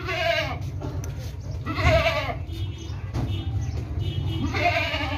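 A pure desi goat with long, wide ears and backward-curving horns, a mother that gave birth a month ago, bleats three times at close range over low background rumble.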